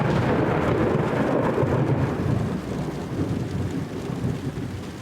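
Steady heavy rain with a continuous low rumble of rolling thunder from an overhead lightning storm, loud and dense throughout, easing slightly toward the end.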